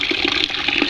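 Water gushes steadily into a compost tea barrel. The pour sounds loud and close, a continuous rushing splash for about a second.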